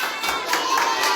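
Kindergarten children clap together during a group game, a brief patter of many small hands in quick, uneven bursts, close by with light crowd murmur.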